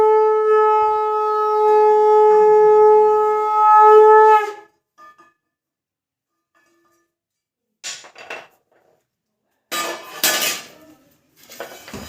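A bell-metal kansar gong is beaten in a steady, ringing run during a household puja. It sounds loud and close for about four seconds, then stops, and a few scattered clanks and knocks follow.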